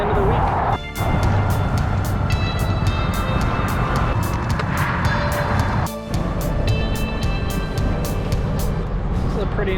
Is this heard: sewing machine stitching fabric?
no